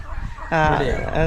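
A Sonali chicken on a Tamil Nadu poultry farm crows loudly at close range, a sudden harmonic, slightly vibrating call cutting in after a stretch of low background murmur.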